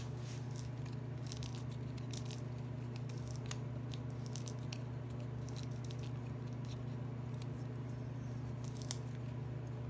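A 35mm film canister being rolled forward and backward gives small, faint, irregular clicks and ticks over a steady low hum, with no voices.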